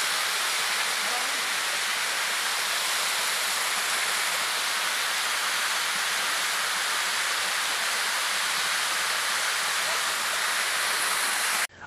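Steady rushing roar of a freshwater waterfall beside a stream, loud and unbroken throughout with no pauses.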